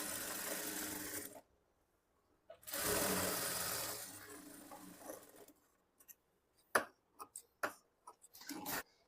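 A sewing machine stitches along a folded blouse seam in two close bursts of steady mechanical whirring, followed by a string of quiet clicks and taps from handling the fabric and machine.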